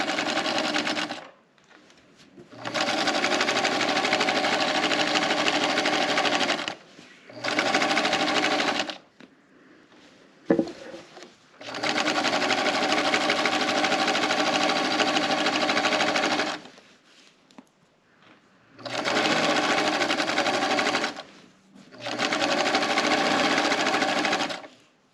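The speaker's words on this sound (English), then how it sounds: "So now we're going to continue our seam" A sewing machine stitches a pillowcase seam in several long, steady runs of rapid mechanical whirring, close and loud, separated by short pauses, with no talking.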